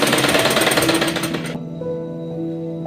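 A sewing machine runs in a dense, rapid mechanical chatter while stitching folded fabric into piping for a baby girl's dress, then stops abruptly halfway through, leaving a quieter humming tail.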